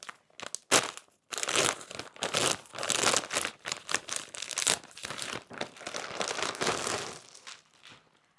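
Plastic wrapping around a package of pyjama bottoms crinkles and tears loudly and up close in dense, uneven bursts with short pauses, as the parcel is opened.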